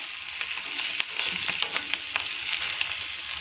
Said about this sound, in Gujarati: ત્યારબાદ મસાલાને આપણે થોડા હલાવી લઈશું.